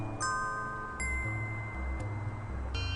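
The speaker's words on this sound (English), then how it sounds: "what you're hearing is the MIDI soundtrack" Soft, quiet MIDI soundtrack music from the game The 7th Guest, with steady tonal notes and a bouncing low bass line, changing chords every second or so.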